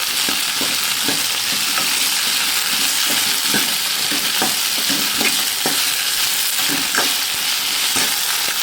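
Okra sautéing in oil in a pan, a loud, constant sizzle broken by regular scrapes and taps of a stirring spoon.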